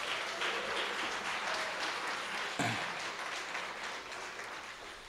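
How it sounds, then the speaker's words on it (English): A poetry festival audience in Palm Beach applauds after a poem with loud, sustained clapping that fills the room and then slowly tapers. "But you don't have to clap after every poem"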